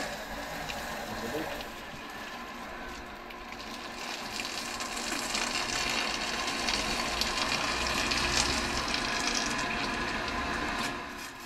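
Steady rumbling drone of a small motor pumping water, with a rushing, gushing wash that grows a little louder partway through.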